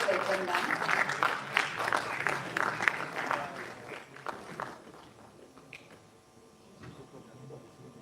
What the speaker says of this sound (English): Students, please give them a round of applause to welcome them.